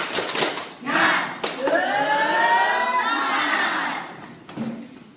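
Students stand in a classroom and perform a rhythmic 'tepuk semangat' clapping chant. Sharp bursts of clapping alternate with a loud, sustained group shout in the middle, and the voices chant together with the claps.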